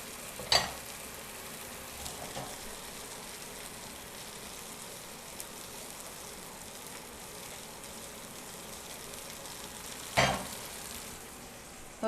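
Steak sizzles in a hot pan on high heat, a soft steady crackle and hiss running throughout, punctuated by a couple of brief louder spits.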